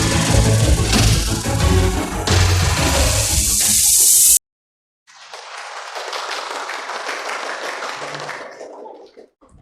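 Audience applause in a church setting, a loud burst of dense clapping that cuts off briefly, then a softer, thinner round of clapping that tapers away.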